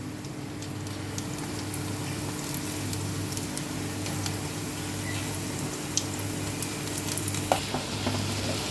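Corn pakoras (bhaji) deep-frying in hot oil, a steady dense sizzle running throughout with small crackles and pops, close and continuous, no talking.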